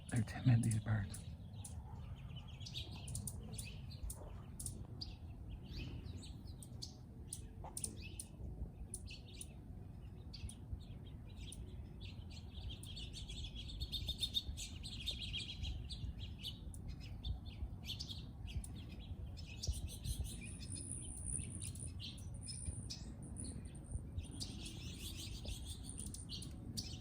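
American goldfinches in a Southern California garden give faint, scattered chirps and tweets over a low background rumble, with a voice occasionally audible.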